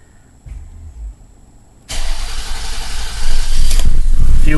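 A 2000 Toyota Sienna, just after a fuel filter replacement, cranks over briefly, then its engine catches and settles into a loud, steady idle that swells near the end.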